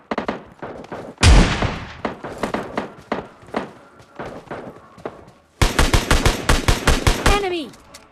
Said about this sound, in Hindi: अब भाई मैं लॉन्ग रेंज में शॉटगन चला रहा हूँ।